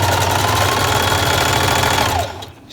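A sewing machine runs a zigzag stitch along the edge of a newborn onesie, a loud, steady mechanical whir that continues evenly and then stops abruptly near the end.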